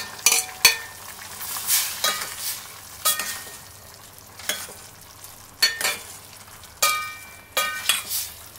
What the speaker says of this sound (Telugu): ఇప్పుడు మనము ఈ బెండకాయ ముక్కలను ఈ పప్పులో వేసేసుకుందాం